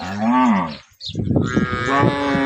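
Cows on a Gujarati dairy farm low twice, a long loud moo followed after a short gap by a rougher, lower drawn-out bellow, close by with no talk.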